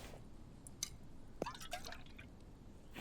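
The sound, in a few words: water poured into a bucket in video game The Infected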